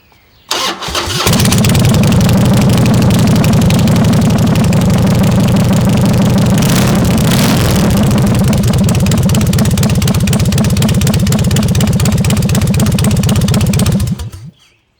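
A Harley-Davidson Softail motorcycle with a newly installed exhaust cranks and fires, then idles with a steady, deep, loud rumble for several seconds before shutting off, in a garage.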